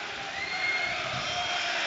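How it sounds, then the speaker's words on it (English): Stadium crowd roar at a Bristol City versus Leeds United football match, a steady broad wash of massed voices holding at an even level throughout, distant and diffuse with no single voice standing out. "As the applause dies down, the roar goes up."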